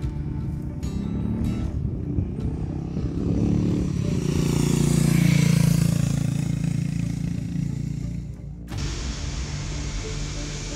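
Harley-Davidson X440 motorcycle engine running, a steady throbbing drone that swells to a louder pass near the middle, then fades and cuts abruptly near the end, heard alone without talk.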